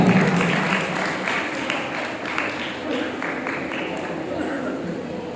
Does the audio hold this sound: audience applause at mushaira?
yes